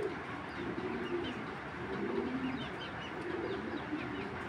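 Racing pigeons, including a Koopman-line bird, coo in low repeated murmurs amid a busy loft ambience, with faint chirps and rustling overlapping steadily throughout.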